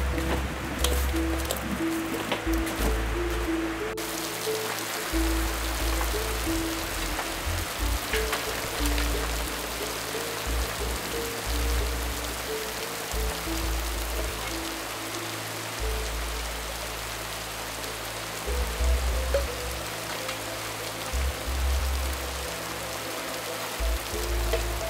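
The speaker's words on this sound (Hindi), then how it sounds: "बारिश दे रहा है" Steady rain falls outdoors in rural Arunachal Pradesh, a dense, even patter that continues unbroken and fairly close throughout, with a low rumble underneath and no voices.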